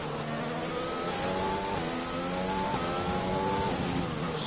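An F1 race car engine in the video game F1 2020, during a race in Russia, holds a steady high-pitched whine with slight shifts in pitch, loud and continuous, with no voices.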